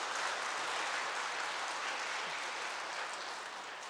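A church congregation applauds a priest after a confirmation catechism lecture, a dense wash of clapping that stays even and then fades toward the end.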